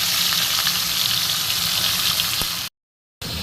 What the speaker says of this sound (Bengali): মাছগুলো আমি একটা একটা করে দিয়ে দেবো। ভালো করে ভেজে নেবো আগে।